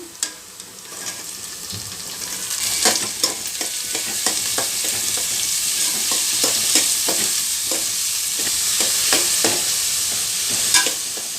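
Broccoli stalks and onions sizzle in a pan as they are stirred. A steady frying hiss carries repeated scraping and tapping strokes from the spoon, near and prominent throughout with no voices.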